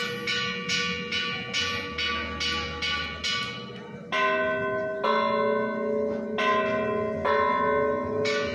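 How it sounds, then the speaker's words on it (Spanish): Church bells peal in Huitzilan de Serdán, Puebla, Mexico, in a steady ringing pattern, several bells striking in repeated rhythmic sequences, resonant and fairly close, with tones shifting partway through. "Aquí escuchando repique de campanas."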